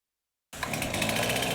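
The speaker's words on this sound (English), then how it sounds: "Up and down Highway 12, the sounds of chainsaws filling the air." After a brief silence, a chainsaw starts up on storm-damaged trees along a highway and runs steadily at a high buzzing pitch, fairly close, with no voices over it.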